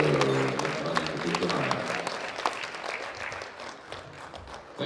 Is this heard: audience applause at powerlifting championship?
yes